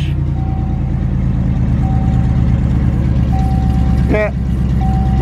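Loud rumbling car engine with an overly loud exhaust, droning steadily close by, with a repeating thin electronic beep and a brief squeal near the end.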